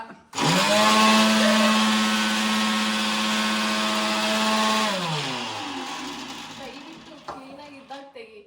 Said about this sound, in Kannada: ಮಿಕ್ಸಿ ಆಡಿಸುವ ವಿಧಾನ.